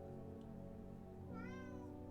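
A cat in the video game Strange Horticulture gives a short, rising-then-falling meow over a steady low hum of background music, fairly faint and alone without speech.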